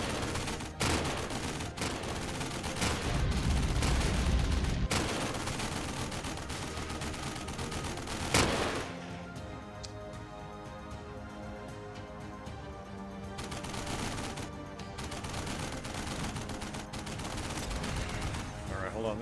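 Sniper and rifle gunfire in the Battlegrounds video game, a rapid flurry of sharp cracks and overlapping shots followed by sparser single reports, loud and close over game ambience, with voice chatter mixed in.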